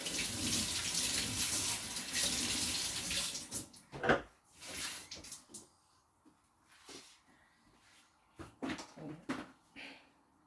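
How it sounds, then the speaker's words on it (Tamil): Water splashed and sprinkled by hand as an offering after a home-cooked banana blossom stir-fry meal, heard as irregular close splashes and drips in several short bursts, with running-water noise at the start. "இப்போ நாங்கள் சாமிக்கு படைச்சு கொஞ்சம் தண்ணி தெளிப்போம்"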